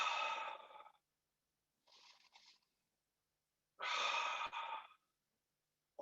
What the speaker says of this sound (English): 3 breaths, go.